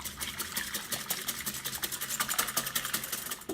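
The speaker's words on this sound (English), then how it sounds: "So I'm going to whisk this up." Egg yolks whisked together with melted chocolate in a bowl, a quick steady run of light scraping taps from the whisk, close and fairly quiet, with no talking.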